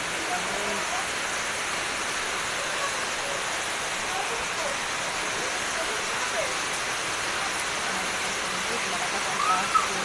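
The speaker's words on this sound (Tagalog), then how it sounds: "Malakas ang pasok ng tubig." Floodwater pours strongly into a flooded neighbourhood, a steady broadband rush that holds constant for ten seconds at moderate volume, with faint voices in the background.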